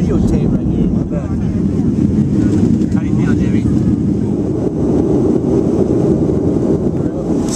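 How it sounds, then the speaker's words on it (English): An airliner taxiing on the runway, heard from inside the cabin as a loud, steady low rumble with wind-like hiss that never lets up, while people talk over it. "We're still taxiing on the runway."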